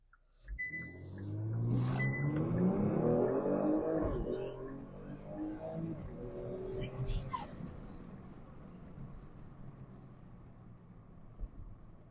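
Kia Stinger GT2 fitted with a LAP3 TCU launching from a stop with traction control off, the engine note climbing steeply, dropping at a gear change, then rising again as it pulls toward 60 mph.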